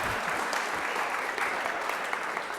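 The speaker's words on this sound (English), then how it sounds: "You're supposed to all clap when I say that" Audience applause at a university talk on poverty and church teaching, a steady dense wash of many hands clapping that holds evenly throughout at moderate, slightly distant level.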